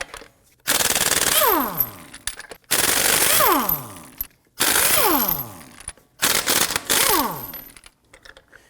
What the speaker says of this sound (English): Using a 19mm socket, we're going to loosen and remove our lug nuts.